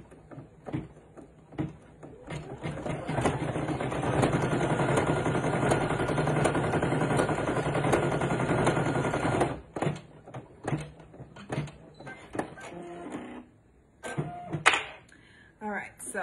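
A Brother PE800 embroidery machine stitches steadily for several seconds at close range, a continuous mechanical whir that stops near the middle, followed by scattered handling clicks and knocks.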